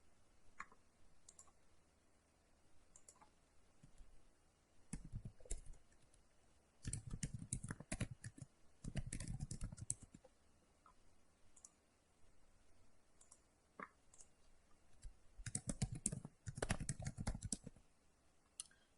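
An inquiry is typed on a computer keyboard: soft, irregular key clicks run throughout, with several louder, denser bursts of rapid typing and no talking.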